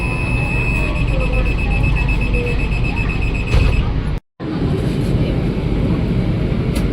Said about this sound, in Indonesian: Dan bunyi buka tutup pintunya khas banget.